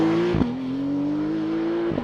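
A 2022 Porsche 911 GTS Cabriolet launches hard, its engine climbing steadily in pitch through a gear, with two quick upshift breaks; the sound is loud and close.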